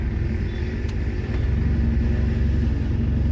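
A Suzuki car engine idling with the air conditioning switched on, a loud, close, steady low rumble that settles into a slightly heavier, even drone partway through, with no talking.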